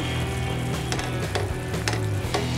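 A spoon scrapes and stirs chana dal powder into a cooking coconut mixture with ghee, making a continuous low sizzle broken by several sharp scraping strokes against the pan, close and clear with no voices.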